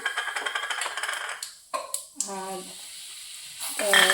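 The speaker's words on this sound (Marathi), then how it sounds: "तडतडू द्यायची जिरे मिरी" Cumin and black pepper spluttering in hot oil for palak paneer give a brief, close crackling sizzle in the first seconds, then fade into softer, fainter sounds.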